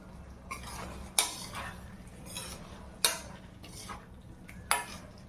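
Spoon stirring paneer butter masala in a pan after coriander goes in, with regular scraping sweeps and three sharp metallic clinks against the pan, close over a faint sizzle.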